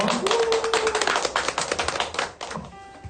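A small audience at an outdoor literary concert claps briefly, a short burst of close, uneven hand claps that tapers off after about two and a half seconds.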